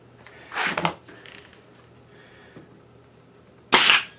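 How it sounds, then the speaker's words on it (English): A nail gun fires twice: a sharp pneumatic bang near the start, then a louder, crisp crack of the nail shot near the end, with quiet room hum between. "This is always ready to shoot a nail every time you pull the trigger."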